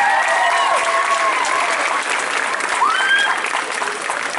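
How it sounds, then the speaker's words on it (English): A convention crowd applauds the adult division contestants with steady clapping, and a few voices call out over it. "A very good applause for all of our contestants from our adult division."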